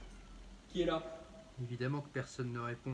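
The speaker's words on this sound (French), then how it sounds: "c'est mon chat qu'on entend" A pet cat indoors meows several times, short and close, between and under someone speaking in French.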